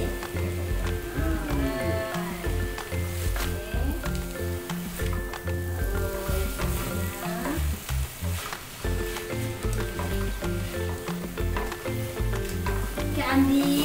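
Puffed tofu tipped into split-gill mushrooms already frying in a pan, giving a loud, continuous sizzle with stirring scrapes and clatter running throughout.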